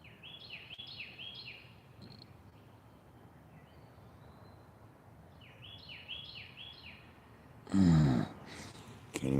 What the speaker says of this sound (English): I love the sound of those birds early in the morning.